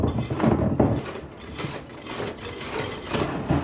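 Egg yolks folded gently into beaten egg whites in a bowl for a light strawberry cake batter, giving soft, steady scraping and light clinks of utensil against bowl, fairly close and alone.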